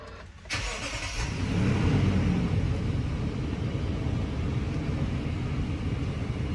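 A Toyota Land Cruiser engine cranks briefly and catches, then settles into a steady, loud low rumble heard from inside the vehicle.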